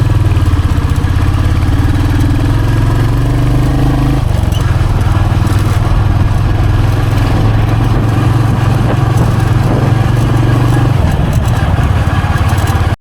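A Royal Enfield Hunter 350 motorcycle engine runs steadily and loudly throughout while riding, with a deep low rumble and a shift in tone partway through, heard up close over wind.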